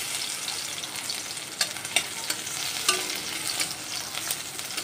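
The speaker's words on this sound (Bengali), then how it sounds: "আজকে ডাল ফোড়ন দিচ্ছি রসুন দিয়ে" Garlic and dried red chilli crackle and sizzle in hot oil for a dal tempering, a steady close frying hiss broken by a few sharp spits and pops, with no voices.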